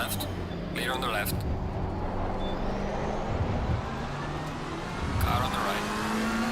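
Race cars at the Nurburgring in a racing game roaring past, a steady engine drone that swells as another car draws close and passes, with brief bursts of radio speech over it.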